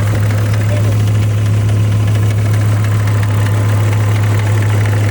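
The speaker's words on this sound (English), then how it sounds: "we have a really weird ticking noise coming from the front of the engine" A BMW M5's engine idles loudly and continuously, with a fine, fast ticking from the front of the engine running through it from start to finish.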